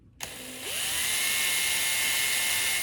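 A power drill whirs up with a rising pitch, then runs steadily at high speed, close and continuous, while installing a car radio.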